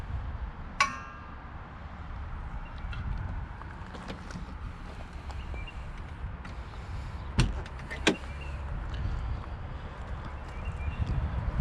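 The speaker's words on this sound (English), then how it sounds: "So lifting up on the door a bit and giving it a close will help." The door of a 1968 MG C GT, which has slight metal-to-metal latch contact, is lifted and shut, giving a few sharp clunks and metallic clicks over quiet background noise.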